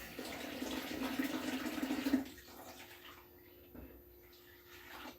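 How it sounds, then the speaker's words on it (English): Spinach rinsed under a running tap, a steady splashing stream for about two seconds that then cuts off, leaving quiet drips and faint handling sounds. "So we're just gonna rinse the spinach a little bit."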